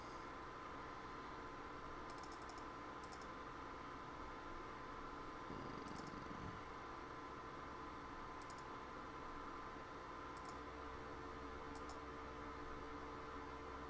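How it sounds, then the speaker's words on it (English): Low, steady whirring hum of a computer fan during a live stream, faint and constant for the whole stretch, with a few light clicks on top and no speech. "Sound is okay, just a background noise. I think it's the fan on the computer."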